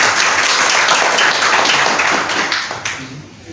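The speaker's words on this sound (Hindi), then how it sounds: "तालियां बजाते हैं, अच्छी वेबसाइट लगी।" An audience breaks into sustained applause, many hands clapping densely and loudly before the sound thins and fades toward the end.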